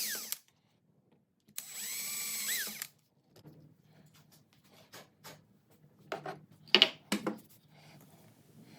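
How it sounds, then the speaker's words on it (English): A power drill boring holes through a piece of scrap wood, one sustained whirring burst of about a second, followed by quieter scraping, handling clatter and a couple of brief revs. "drill out those holes on a piece of"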